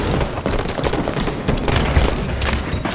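Dense gunfire and explosions boom continuously through a Halo 5 competitive capture-the-flag match, loud and close with layered weapon fire, and no voice above the fight.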